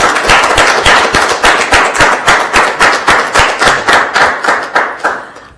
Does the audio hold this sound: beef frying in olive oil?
no